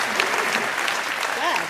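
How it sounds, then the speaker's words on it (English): Clapping hands in a casual recording, a short burst of steady claps with a voice talking over the top throughout. "Let me give you a little hand claps right there."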